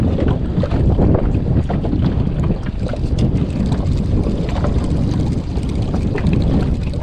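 Strong wind and waves roar steadily around a fishing boat at sea, a loud, continuous wash of noise with the wind buffeting the microphone.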